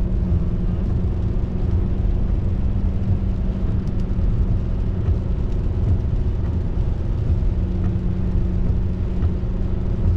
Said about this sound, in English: You hear the car?